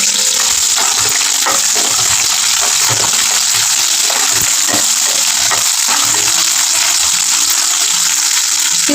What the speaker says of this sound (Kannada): ಮೆಣಸಿನ್ಕಾಯಿ ಸ್ವಲ್ಪ ಚಟಾಪಟ ಅಂದಮೇಲೆ ಫ್ರೈ ಮಾಡ್ಕೊಂಡ್ಮೇಲೆ ನಾವಿಲ್ಲಿ ಈರುಳ್ಳಿನ ಹಾಕೋಬೇಕಾಗ್ತದೆ